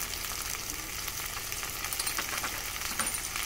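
Fish curry base of spices, salt, turmeric, chilli, cumin and ginger-garlic paste sautéing in a pan for rohu fish curry, a dense, even frying sizzle, close and unbroken with no talking.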